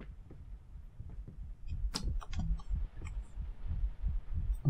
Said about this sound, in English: Why the hell is that heart beating?